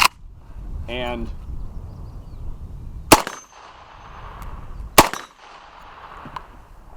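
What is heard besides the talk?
RPK rifle firing semi-auto with binary trigger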